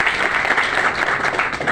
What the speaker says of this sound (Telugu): ఒకసారి మీ చప్పట్లతో కూడా చెప్పచ్చు